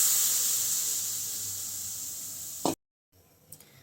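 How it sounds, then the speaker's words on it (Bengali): Water poured into a pan of mung dal gives a steady hiss and rush for a few seconds, then stops abruptly, leaving a quiet pause and a faint clink. "ডালটি ভালোভাবে সিদ্ধ হওয়ার জন্য একটু বেশি পরিমাণ মতন জল দিচ্ছি"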